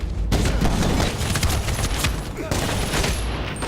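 Rapid gunfire crackles in dense bursts, loud and continuous with a short break midway, like an intense firefight in the video game Medal of Honor Warfighter.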